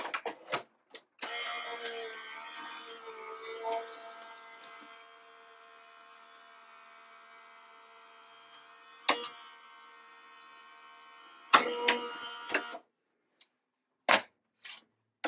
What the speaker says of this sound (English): it might be a little loud because I'm going to use my Big Shot switch